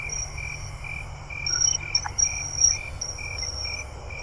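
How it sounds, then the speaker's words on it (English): A Thomas's tree cricket chirps from up in a tree at night, giving steady repeated trills over a quiet background of other insects and faint frog calls, with no voices. "I'm hearing that cricket. This one sounds more like up in a tree"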